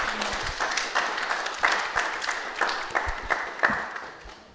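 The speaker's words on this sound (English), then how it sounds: "give her an applause, and thanks a lot" An audience applauds a speaker at the close of a talk, dense clapping that swells with a few sharper claps and then tapers off, with little talk over it.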